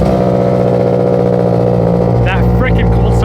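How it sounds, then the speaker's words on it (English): A Mitsubishi Evo's engine idles loudly and close at cold start with a steady, harmonic low drone. A voice comes in near the end over the engine. "That frickin' cold start is annoying."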